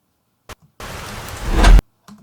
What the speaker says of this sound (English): So we need a little bit of rain sound.